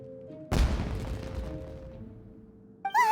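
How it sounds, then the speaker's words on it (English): A loud fireworks blast bursts out in the Genshin Impact game world, its booming, crackling explosion decaying over about two seconds, followed by a brief rising whistle at the end. "Was that an explosion? It sounded like fireworks."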